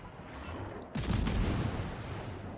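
Heavy warship gunfire in the World of Warships: Legends naval battle game, a deep booming salvo breaking in after a low rumbling background, loud and sustained with a long rolling tail.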